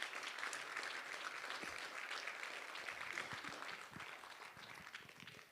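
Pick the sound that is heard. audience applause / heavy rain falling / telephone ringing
audience applause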